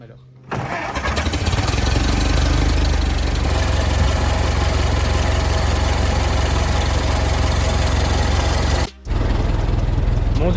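A Ford Model T engine running on E85 ethanol and misfiring catches after a quiet start and then runs loud and rough at a steady pace, cutting out briefly near the end before picking up again.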